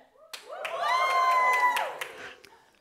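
An improv show audience at a student end-of-semester performance cheers loudly: whoops and shouts swell into a sustained roar with scattered claps, then fade away.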